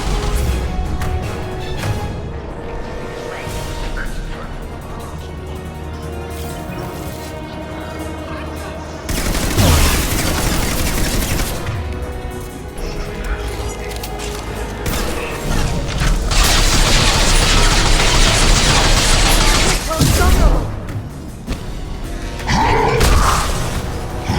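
Gunfire in the video game Mass Effect 2: bursts of shots and heavy booming impacts crowd a sustained firefight, loud and close, with spoken lines mixed in amid the shooting.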